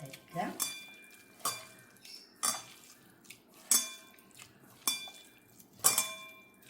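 A spoon works sugeen dough and melted jaggery together in a pot, making about six rhythmic scraping clinks roughly a second apart, close and fairly quiet.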